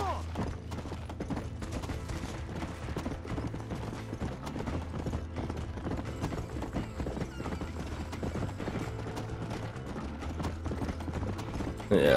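Hooves clip-clop steadily beneath a dense, busy game mix of music and effects, with occasional whinnies, as a horse is ridden in Red Dead Redemption; the hoofbeats are not clearly separable from the surrounding soundtrack.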